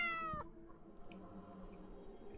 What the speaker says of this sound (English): Is the cat stuck in the well?